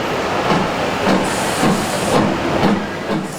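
A steam locomotive at Llangollen station gives off a steady loud hiss. Faint rhythmic chuffing pulses run under it, and no one speaks.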